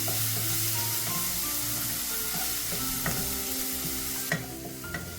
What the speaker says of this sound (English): Next I'm going to add in the chopped tomato and fry till the tomato turns soft.